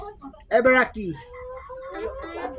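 Japanese Shamo chickens about three months old cluck and call close by, with a loud burst of squawking followed by softer clucks, and a person talks under them.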